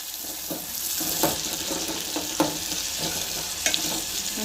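Tomato and onions for masala dal sizzle steadily in a pan while being stirred, a continuous close frying hiss with a few soft scrape accents and no talking.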